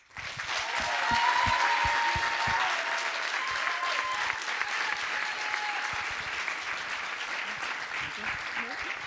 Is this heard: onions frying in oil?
no